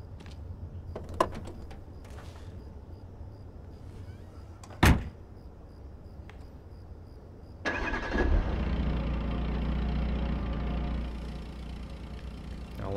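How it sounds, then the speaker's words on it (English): In the video game Beyond Two Souls, a car door slams once near the middle, and a few seconds later the car engine cranks and starts, settling into a steady low idle for the rest of the clip. "Now get in the car and start it up."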